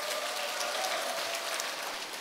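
Louder, sustained applause from a lecture hall audience, a dense even wash of clapping that holds steady from start to finish with no speech.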